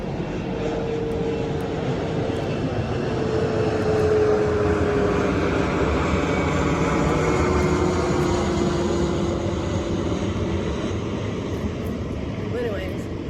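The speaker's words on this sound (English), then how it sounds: "It's plane going back." A fixed-wing airplane drones overhead outdoors on a hot sunny day, a steady continuous engine hum that swells slightly and holds throughout, with a voice speaking over it.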